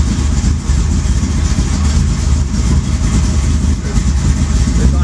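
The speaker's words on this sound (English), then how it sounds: "It's idling." A cold Volkswagen Beetle engine idles steadily with a low, continuous rumble that holds even throughout, close by and fairly loud.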